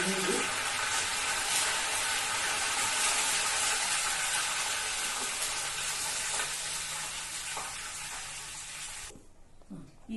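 Curry leaves and dried red chillies fry in hot tempering oil with a dense, close sizzle that holds steady, then thins out and quiets near the end.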